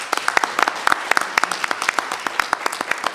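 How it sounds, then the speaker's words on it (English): Applause from a school board meeting audience, a smallish group clapping close by with individual hand claps distinctly audible in a quick, uneven patter, no talk over it. "So let's give her a round of applause for that."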